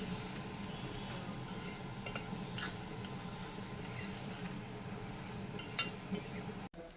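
Chopped onion with a pinch of salt frying in a pan until golden brown gives off a steady low sizzle, with occasional scrapes and clinks of a spoon stirring it, alone without talk.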